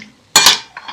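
Utensils scrape and clink against a bowl while stirring a white bean salad with carrots and olives, a loud burst of clattering followed by two softer scrapes, with no talking.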